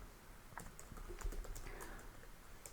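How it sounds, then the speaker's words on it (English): Quick, fairly quiet keystrokes patter on a computer keyboard as a command is typed, the clicks coming in irregular bursts with no voice over them. "I can just type."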